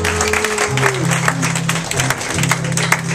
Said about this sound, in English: Give David a hand, by the way